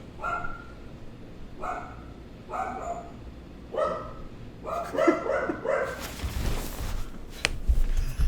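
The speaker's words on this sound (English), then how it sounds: "We can't do this with dogs barking." Dogs barking repeatedly at close range, spaced single barks that bunch into a quick flurry before a clatter of noise.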